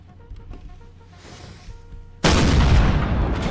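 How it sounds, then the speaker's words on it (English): Faint rumbling and distant pops build up, then a sudden loud cannon blast erupts and its heavy roar carries on to the end; Napoleonic-era cannon fire in a video game battle. "Those cannons are super loud."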